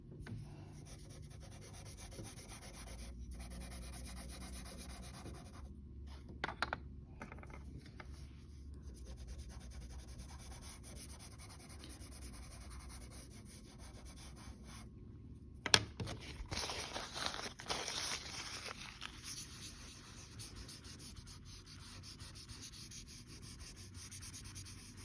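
Soft pastel is rubbed and blended across paper in long, continuous scratchy strokes, close and quiet, with a few brief louder scuffs and pauses along the way.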